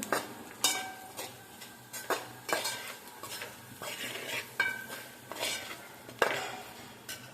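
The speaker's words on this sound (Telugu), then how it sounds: "ధనియాల పొడి వేసి బాగా కలుపుతాను" A spoon stirs coriander powder into prawns frying in a pan, giving repeated close metallic scrapes and knocks against the pan in an uneven rhythm over a light sizzle, with no speech.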